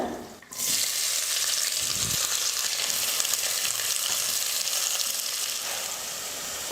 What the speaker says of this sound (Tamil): பாருங்கள் வெங்காயம் வந்து இந்த மாதிரி நல்லா கலராக வரணும் அந்தளவுக்கு நல்லா வதங்கணும்